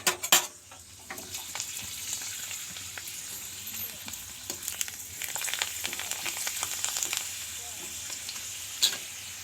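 Papad and shelled peanuts frying in oil for tea on a rainy day, a steady close sizzle with stirring scrapes and occasional sharp knocks of utensils against the pan.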